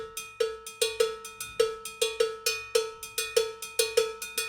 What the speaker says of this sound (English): Look how quickly I can go from an open tone to that edge sound.